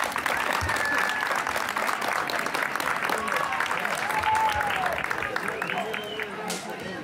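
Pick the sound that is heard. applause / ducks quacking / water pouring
applause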